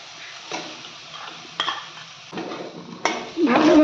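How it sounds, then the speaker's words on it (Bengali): Boiled masoor dal filling for kachori being stirred in a pan, a few separate spoon knocks and scrapes against the metal with a quiet sizzle beneath, ending in a louder rustling scrape, close by and without talk. "ভালোভাবে ডালটা একসঙ্গে নাড়িয়ে নেব।"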